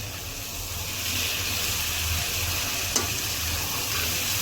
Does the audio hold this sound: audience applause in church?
no